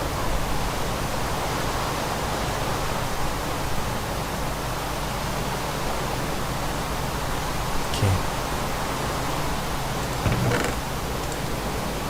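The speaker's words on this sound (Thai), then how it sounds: "เห็นฝนตกก็เลย อัดคลิปบ้าง" Steady hiss of rain falling in the video game Minecraft, a dense continuous wash with a couple of faint brief knocks near the end, no voices.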